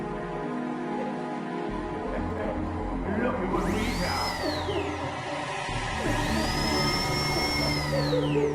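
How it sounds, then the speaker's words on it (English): Dental drill torture sounds cut from the video game Manhunt: a loud, droning mechanical whine with rising and falling high-pitched sweeps that swell in two bursts over a continuous harsh background. "You can hear the sounds of dental drill torture"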